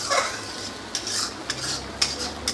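A spoon stirs a thick yogurt and nut paste into a vegetarian vegetable dish, giving soft, steady scraping with a few sharp clinks against the pan, close and fairly quiet, with no talk.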